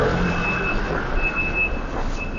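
A car rolls past close by on a Jerusalem street, a loud, steady engine and road rumble that swells slightly as it goes, with a thin, persistent high beeping tone running through it.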